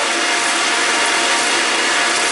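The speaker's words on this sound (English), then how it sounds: "let that blend for a little while. Remember, this is at the highest speed that blender will go" A Vitamix blender runs at its highest speed, churning a green smoothie of spinach, romaine, cucumber, avocado, apple and pear. It gives off a loud, steady, unbroken roar with no talk over it.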